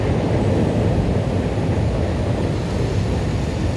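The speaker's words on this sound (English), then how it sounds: "This is the elevated train," A Chicago elevated L train rumbles past in downtown, a steady loud low roar with no speech, heard on a rainy street.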